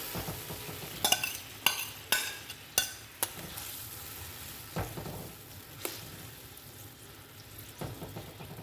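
Pointed gourd (potol) fries in a pan with a soft background sizzle, punctuated by sharp clattering scrapes and knocks as it is stirred, several in quick succession and then sparser, with no talking.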